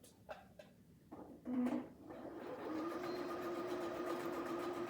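A sewing machine stitches the final seam of a pillow cover, starting with a few short bursts and back-stitch jabs, then running in a steady, fairly quiet whirring hum.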